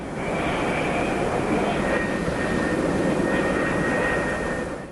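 Aircraft engine noise on an aircraft carrier deck where F-4E Phantom jets operate, a loud, continuous roar with a steady high whine held throughout.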